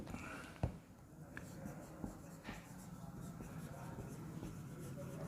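A pen scratches out a maths example on paper in short, quiet strokes and pauses, close but faint, with occasional light taps and soft handling noise.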